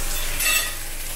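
Steak cooking in a hot pan gives off a steady close sizzle, with a brief brighter crackle and a faint clink of utensils.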